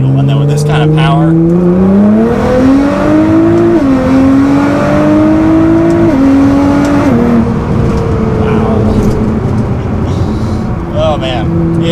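A 600 WHP Nissan R35 GT-R Premium accelerates hard, its exhaust roaring loud and close as the engine climbs through the revs, with pitch steps at each gear shift.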